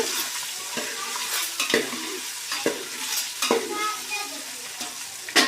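Salt, chili powder and turmeric fry lightly in a pan for egg dum biryani: a gentle sizzle broken by frequent utensil scrapes and clinks against the pot, close and clear.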